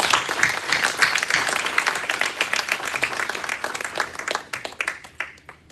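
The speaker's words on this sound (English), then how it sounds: "with a round of applause once more" An audience at a shrine opening ceremony claps loudly for special guests, a dense burst of applause that thins into scattered claps and fades near the end.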